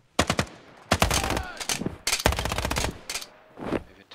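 Automatic gunfire in the tactical shooter Ground Branch, loud rapid bursts in several separate volleys with short pauses between, close and sharp.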